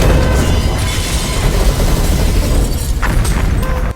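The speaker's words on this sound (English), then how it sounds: "A violent explosion follows" A violent explosion in a movie scene roars as a loud, sustained blast with deep rumbling and crackling debris, filling the whole moment without speech.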